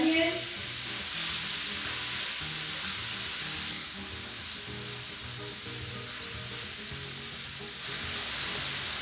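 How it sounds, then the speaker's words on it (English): Fresh herbs and onions sauté in a pan for a vegan ghormeh sabzi herb stew, making a loud, continuous sizzle with a steady hiss and a faint rhythmic bubbling pattern underneath. "I want to saute them to get as much of the moisture out and get it nice and sauteed together with the onions."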